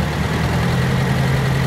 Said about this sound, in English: Now we'll throttle it up.